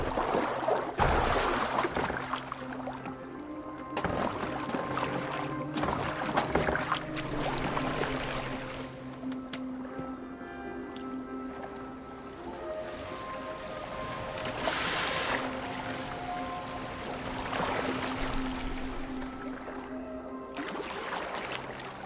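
A boat being steered on water in Assassin's Creed Valhalla: hull sloshing, oar splashes and gurgling surges of water come in uneven waves, mixed with soft game music and brief, low voices.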